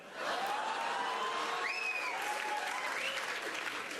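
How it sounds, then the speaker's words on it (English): Steady applause from a comedy show audience fills the whole stretch, dense clapping that holds at an even level from start to finish. "That was a round of applause from the French-Canadian women"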